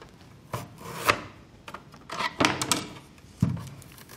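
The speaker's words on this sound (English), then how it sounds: "onion peeler. Its purpose in life is to peel onions." An onion peeler kitchen gadget working on an onion with its ends cut off, giving scattered rubbing, scraping and cracking bursts with uneven gaps between them, close and moderately loud, with no talk.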